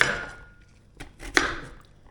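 A few sharp knife chops on a cutting board, spaced irregularly, close and fairly quiet with no talking.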